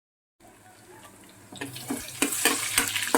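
Cumin seeds and dried red chillies fry in a pan. After a moment of silence a soft hiss begins, then grows louder with sharp crackles and pops over the last second and a half, with no talk.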